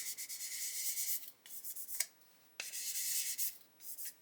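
Close, rhythmic scratchy rubbing of sandpaper in short strokes on primer over a 1/12 scale Italeri Stratos model car body, with brief pauses between bursts.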